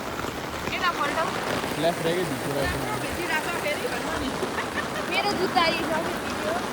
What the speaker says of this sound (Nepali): पानी चाहिँ राम्रो आइरहेको छ यहाँ